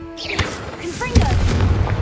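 Confringo explosion spell in Hogwarts Legacy going off as a loud booming blast with a rumbling tail after a short whooshing cast, while a voice speaks over the start.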